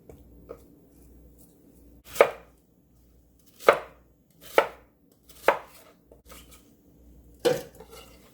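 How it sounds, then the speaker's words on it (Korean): Knife slicing through pear on a cutting board, five distinct chops spaced a second or so apart, close and crisp in a quiet kitchen with no talking. "반 개는 그냥 썰어서 넣어줄 겁니다"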